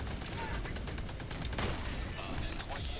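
Rapid machine gun fire and explosive bursts from a chaotic multiplayer shooter battle, dense and sustained over the whole stretch with a heavier blast midway.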